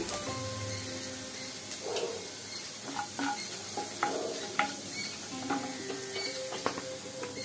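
Asafoetida sizzling in hot oil with chopped ginger while making masala bhindi, a steady crackling fry with scattered clinks and scrapes of a spoon against the pan, close and moderately loud, no talking.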